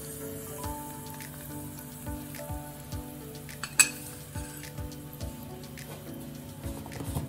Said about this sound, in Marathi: फोडणी थंड झाली आपल्या दह्यात ओतून द्यायची.